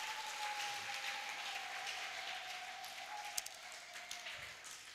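A church congregation applauds during a thanksgiving service, a faint, distant wash of steady clapping with no talk over it.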